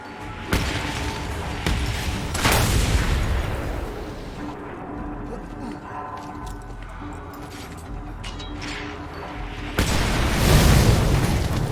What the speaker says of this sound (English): they just blew up the transfer tank that I would have done